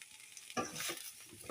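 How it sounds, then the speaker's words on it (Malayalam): Soya chunks tumble into a hot frying pan and are stirred, a brief rustling sizzle that swells midway and continues alone with scraping movement. "ഇനി നമുക്ക് ഇതിലോട്ട് ഈ സോയ ഇടാം."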